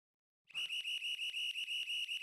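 A referee's whistle sounds at a professional ice hockey game between the Belleville Senators and the Utica Comets. It is one shrill blast, shaken into a fast rapid trill, and it lasts about two seconds with no talking over it.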